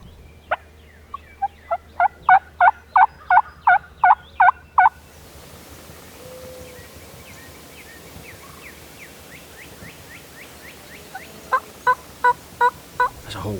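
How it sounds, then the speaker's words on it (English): Several Rio Grande wild turkey hens yelp in the woods after fly-down, loud rhythmic series of a dozen or so sharp yelps, a quieter stretch, then another yelping run from farther off. "The sound of several hens yelping in the woods after fly down"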